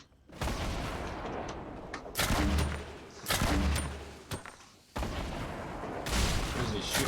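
Video game gunfire in a Season 8 challenge match, heavy bursts of rapid shots and booming blasts in several loud volleys separated by short gaps, with faint voice underneath.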